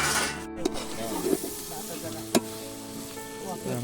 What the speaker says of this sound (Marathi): चिकन हे आता फोडणीत चांगला भाजणार